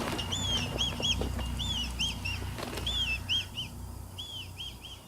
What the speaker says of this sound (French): Les Milans rouges s'approchent en vol piqué du prétendu grand-duc et l'attaquent.